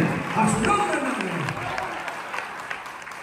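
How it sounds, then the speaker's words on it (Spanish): Church congregation clapping along in praise during a lively worship service, a dense steady applause with voices and crowd noise mixed in throughout. "Dale palmas al que vive."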